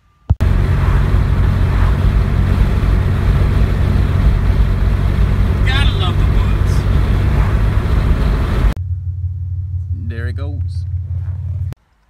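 A car drives along with a steady, loud low rumble of engine and road noise that continues almost without a break, then drops to a quieter cabin drone near the end, with a few short voice-like sounds above it.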